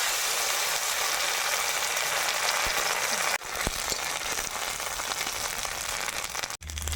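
Steady, loud sizzling of chillies frying in hot oil, with a brief clatter partway through and a sharp cut near the end.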